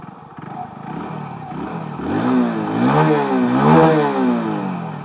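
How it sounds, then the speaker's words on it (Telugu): A small motorcycle engine, a 2024 Hero Passion Plus 100cc commuter bike, fires up nearby and revs, its exhaust note rising and falling steadily. "ఇదైతే ఈ బైక్ ఎగ్జాస్ట్ నోట్"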